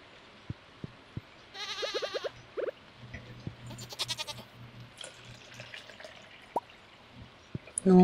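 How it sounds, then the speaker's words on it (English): Video game goat bleats from Stardew Valley sound twice in short wavering bursts during milking, among sharp dripping plinks and small tonal chimes, with quiet game ambience throughout. "I'll just go and milk the goat, just in case."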